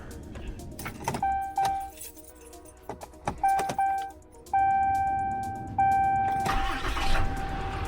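A fourth-generation Cummins 6.7 diesel pickup, warm from driving, with repeated dashboard chimes and a jangle of keys, then the engine cranks and catches near the end, settling into a loud, steady idle.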